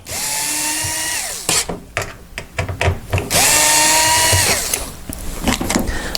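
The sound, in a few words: power driver with Phillips head removing heater panel screws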